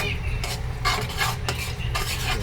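Chili garlic milkfish with tomatoes is stirred in a pan, giving a few close scraping and clinking strokes of a utensil against metal over a faint sizzle.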